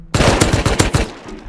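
Rapid bursts of automatic gunfire in a modded 100-player online shooter game, sharp repeated shots in a quick rhythm, loud and close, with no talk over them.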